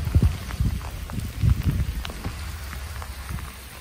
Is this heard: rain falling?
yes